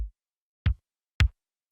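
Three separate kick drums sound one after another in quick succession, an EDM kick, a line kick and a 707 kick, each a short punchy thump with a brief attack, alone and close.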